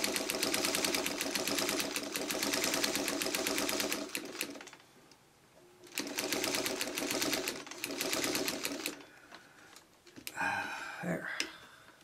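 A sewing machine stitches fabric coasters in two fast, rattling bursts of needle strokes separated by a pause, then a short final stitch with clicks as the handwheel is turned, while a person talks nearby.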